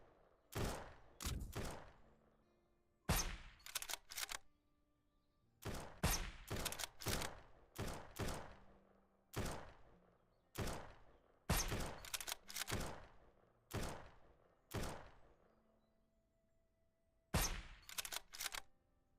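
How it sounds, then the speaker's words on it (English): Gunfire in the survival game SurrounDead, sharp loud bursts of shots in rapid clusters separated by brief pauses, repeating steadily throughout with echoing tails. "Who is shooting?"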